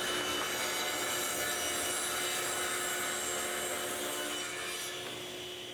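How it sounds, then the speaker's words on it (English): A table saw rips the edge of a cherry board, giving a continuous, loud, rough whine with a steady ringing tone that holds for several seconds and eases off slightly toward the end, with no talking. "over to the table saw to get that final edge ripped nice and straight"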